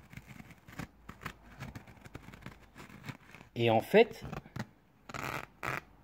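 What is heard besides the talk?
worn cotton convertible top fabric tearing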